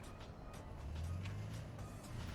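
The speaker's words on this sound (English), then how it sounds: "It is wild how much louder the friendly engines are than the enemies right now" Friendly tank engines in a video game give off a low, steady mechanical drone that swells slightly in the middle, faint and distant, with no talk.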